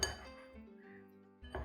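Plum pieces are tossed with powdered cinnamon in a bowl, heard as quiet clinks of a utensil against the dish with a faint ringing tone between, close up and without any talking.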